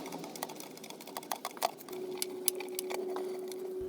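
Socket and extension driving two 10 mm bolts into the oil pan of a Toyota 5S-FE engine, heard as quick light metallic ticks and clicks with a faint steady hum behind, close and soft.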